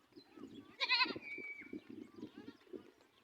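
In rural Ethiopia, a goat gives one clear, wavering bleat by a river where children and goats are drinking. Soft, muffled background sounds continue around it.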